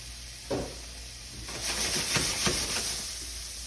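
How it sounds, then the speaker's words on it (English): Green beans dropped into a hot pan with fragrant garlic, a sudden burst of sizzling and hissing followed by stirring, close and moderately loud, with no talk. "once that like garlic starts to get a little fragrant, you can go ahead and just add your green beans in there"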